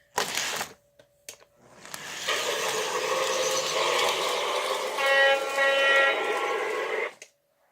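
A model FT locomotive runs on a Christmas train layout, giving a steady mechanical whir and rumble for several seconds after a few brief bumps, with a faint tonal hum near the end.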